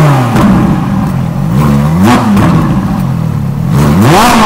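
A powerful Ferrari sports car engine revs repeatedly, rising and falling in pitch with throaty roars, loud and very close with no talking.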